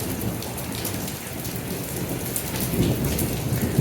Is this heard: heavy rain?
yes